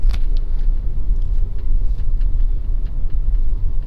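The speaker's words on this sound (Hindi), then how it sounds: "अब गाड़ी को हम लोग धीरे धीरे आगे बढ़ाएंगे" A car engine rumbles low and steady as the car creeps slowly forward in first gear, with a continuous close mechanical hum and no talking.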